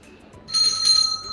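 A single bell rings once, bright and clear, for a mystery box vocabulary game, then lingers and slowly fades over a quiet background.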